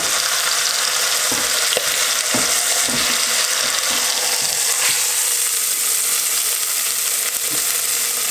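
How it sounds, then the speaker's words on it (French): Flour-dusted beef pieces frying in very hot oil, a loud, steady broadband sizzle that runs the whole time with a few soft clicks and scrapes from turning the meat, close up and with no voices. "on la met du coup dans l'huile bien chaude et on va la faire dorer des deux côtés"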